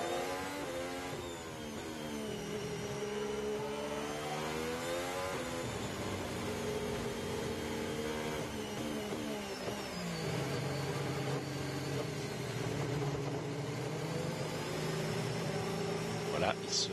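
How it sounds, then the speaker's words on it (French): A Formula 1 car, Sebastian Vettel's, exits the tunnel and brakes for the chicane at Monaco during qualifying, its high engine whine sweeping up and down. A commentator talks over it throughout. "la sortie du tunnel avec Sébastien Vettel, le freinage délicat de la chicane."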